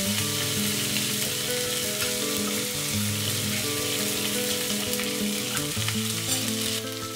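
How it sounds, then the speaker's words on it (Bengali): Ginger paste sizzles and fries steadily in a hot pan while being stirred, a dense continuous crackle with no talking, easing slightly near the end. "তারপর 1 টেবিল চামচ আদা বাটা দিয়ে একটু নাড়াচাড়া করে নেব, যতক্ষণ না আদার কাঁচা গন্ধটা চলে যায়।"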